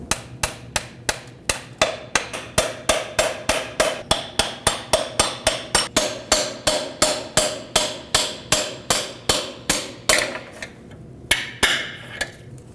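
A bolt is hammered to drive the CV joint out of the drive shaft on a 2006–2015 Lexus IS250 AWD during starter replacement. Steady, evenly spaced metallic hammer blows ring out loud and close, about thirty in a row, then a few final strikes.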